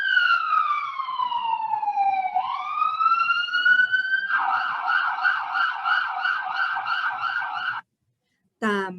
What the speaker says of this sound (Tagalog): Ing tunog ay ni manibatan niya king ambulansyo.